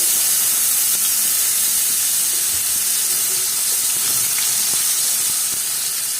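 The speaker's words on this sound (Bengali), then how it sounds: "পেঁয়াজ দিয়ে এবার একটু তেলের সাথে পেঁয়াজটা একটু নরম করে নেব" Onions dropped into hot oil after frying dried hilsa fish, a loud steady hiss and sizzle close by with occasional small pops and clicks.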